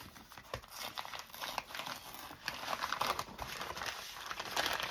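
Wrapping paper being peeled apart for journal covers, a close, steady run of crinkling and crackling paper with small rustling peaks, no voices over it.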